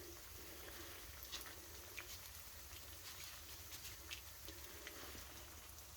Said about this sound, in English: all of our breaded pork chops in the skillet now